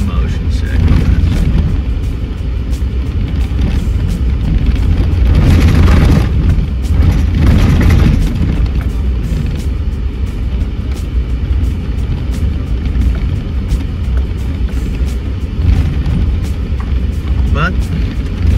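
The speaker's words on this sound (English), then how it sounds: "As we roll down here, it is a little bit of a bumpy ride." Vehicle rolling down a bumpy dirt road at Crooked River Ranch, with a constant loud low rumble and road noise and scattered jolts and rattles throughout, heard from inside.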